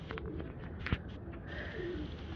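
Pigeons coo softly in a foggy winter setting in Faisalabad, a low murmuring call over faint background noise, with one brief sharp knock partway through.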